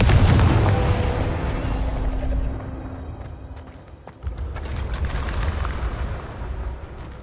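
A deep booming blast from the Confringo spell in Hogwarts Legacy rumbles out and slowly decays, followed by a second thudding impact and scattered crackling debris.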